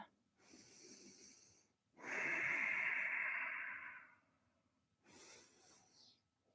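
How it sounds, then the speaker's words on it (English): A person breathes in a long, deep rhythm during Kundalini yoga: a soft inhale, a louder, extended airy exhale with a slight whistle, then another quiet breath. The breathing is close and heard alone. "And we're doing long, deep breathing."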